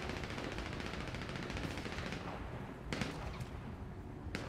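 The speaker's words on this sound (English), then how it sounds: "I'm hearing shots." Distant gunfire in the game GTA 5 with the LSPDFR police mod: scattered sharp shots crackle over a constant busy background, with a couple of clearer bursts near the end.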